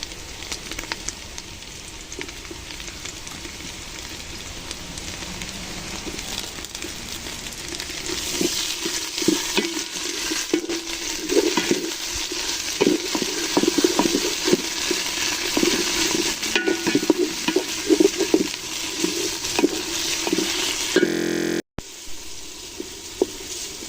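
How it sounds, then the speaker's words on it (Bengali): Ginger, garlic and cumin paste with green chillies frying in soybean oil, a continuous close sizzle with repeated scraping stir strokes building through the middle, then a brief dropout near the end. "মশলাটা কষাই নিতেছি আদা রসুন সব ধরনের মশলা"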